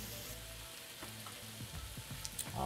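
Turkey and cheese sizzle and fry on a hot flat-top griddle for a pretzel-bun turkey melt, a steady close crackling hiss that swells louder toward the end.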